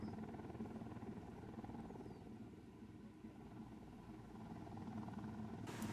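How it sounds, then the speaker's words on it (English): A helicopter in the video game Ghost Recon Wildlands drones at a steady, faint and distant pitch, its low rotor hum continuing throughout with no voices. "Okay, I see the chopper."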